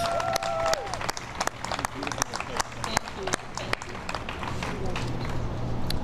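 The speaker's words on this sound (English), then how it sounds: "Another round of applause for Reggio's." A civic event audience gives a round of applause for Reggio's: scattered, uneven clapping with distinct individual sharp claps, fairly close, with voices murmuring underneath.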